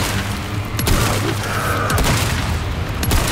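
Gunfire from a weapon in the video game Resident Evil 4 comes as a few sharp, loud bursts spaced a second or so apart, ringing over a steady game soundtrack with no talking.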